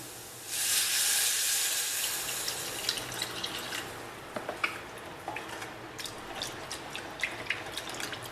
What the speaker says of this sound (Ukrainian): Тепер додаємо молоко